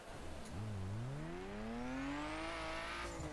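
A car engine in The Crew racing game revs up in one long rising sweep, its pitch climbing steadily and staying loud and fairly close, with a slightly glitchy, strained tone near the top.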